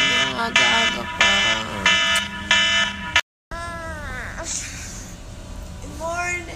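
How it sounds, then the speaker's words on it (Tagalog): An alarm clock rings in loud, regular, buzzing bursts for about three seconds and then cuts off abruptly. Voices talk afterward. "Alden, yung alarm mo."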